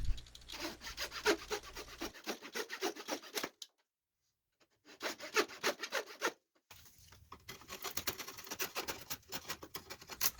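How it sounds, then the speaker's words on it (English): Steady back-and-forth rasping strokes of a homemade oak-framed saw fitted with a bandsaw blade cutting wood, close and rhythmic, in two bursts separated by a short pause, with no talking. "It's sort of like a giant coping saw, but faster."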